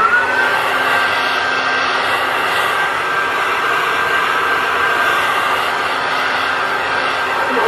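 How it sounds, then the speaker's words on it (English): A hair dryer blows steadily and loudly while drying hair on wash day, a constant airy whoosh with a faint high whine, close and uninterrupted throughout. "Gonna give it a quick little like 5 minute blow dry."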